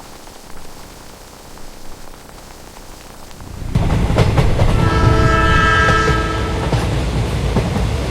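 A miniature toy train roars up suddenly after a quieter stretch, its horn blaring with sustained tones over loud rumbling and rhythmic clatter of the cars.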